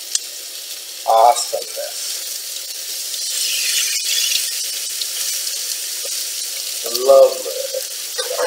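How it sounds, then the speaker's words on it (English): Seasoned pork sears in a hot pan with a steady, broadband sizzle throughout, close and loud, while someone speaks briefly at the start and again near the end. "Hear that sizzle."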